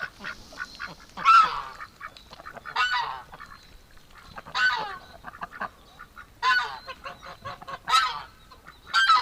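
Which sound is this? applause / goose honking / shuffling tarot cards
goose honking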